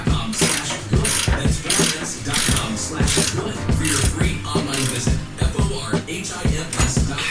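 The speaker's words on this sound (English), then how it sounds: "I'm going to go ahead and tighten this lower bracket right where it's at" Ratchet tightening a lower shock sensor bracket bolt on a vehicle suspension, with dense rapid clicking strokes and clanks repeating steadily throughout, loud and close.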